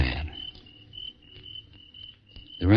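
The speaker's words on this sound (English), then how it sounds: "There were a couple of crickets outside. And they were the only ones who felt like singing." A couple of crickets chirp steadily outside on a quiet night, a thin high repeating trill heard alone, bracketed by louder bursts of sound at the start and end, staged as a radio drama scene.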